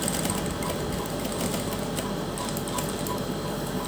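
A sewing machine stitches along a folded gota lace strip, running continuously with a fast, dense mechanical chatter, close and steady from start to finish.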